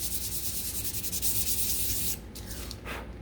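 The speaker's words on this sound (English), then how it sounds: "you can take your sandpaper and just give this a quick sand" Sandpaper rubbing charring off an engraved shiplap wood sign, a close, steady rasping hiss of back-and-forth sanding that eases off near the end.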